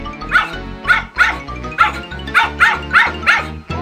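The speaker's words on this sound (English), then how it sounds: "Then a dog sees the gingerbread man." An animated dog in a musical children's gingerbread man story barks repeatedly in a quick series of about eight close, loud barks with no other sound between them.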